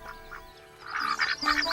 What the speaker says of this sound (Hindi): मैंने रामू की बत्तखें गिनी।